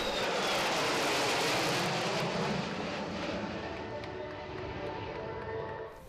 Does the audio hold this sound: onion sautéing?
no